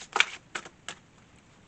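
A large Mystical Wisdom tarot card deck being shuffled, heard as a few short papery riffles and slaps: one louder burst near the start, then two softer ones spaced apart, close and fairly quiet, with no talking.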